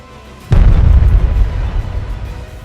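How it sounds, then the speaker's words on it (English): A drone strike detonates at a military position, setting off stored ammunition: one sudden, loud, deep blast followed by a heavy rumbling roar that slowly thins over the next two seconds. "The impact triggered a massive explosion, setting off nearby ammunition and engulfing the entire position in flames."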